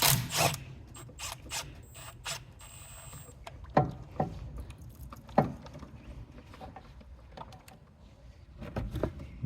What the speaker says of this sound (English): Now we just need to disconnect our brake hose from our old caliper.